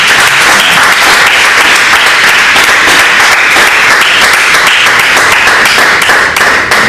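Loud, sustained round of applause from an audience at a gathering, dense clapping that holds steady throughout without a break.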